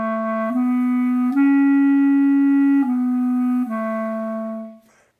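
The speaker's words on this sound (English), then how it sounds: "you can hear this ultra legato tongue almost doesn't sound different than the slur" A wind instrument plays a sustained, gently tongued ultra-legato line of connected notes, each tongued note barely separated from the next and sounding almost like a slur, clear and close with no voices, fading out at the end.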